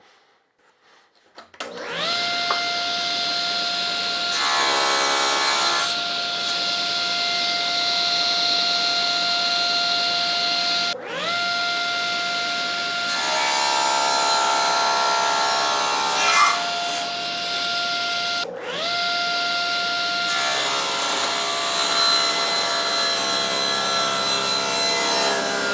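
A table saw with a mitre gauge tapering jig rips through wood to cut wedges, making three long loud whining passes with the blade spinning between cuts. The saw runs continuously and there is no talk.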